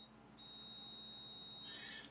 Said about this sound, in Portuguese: Vou mudar aqui para a escala de diodo, que é a escala do BIP.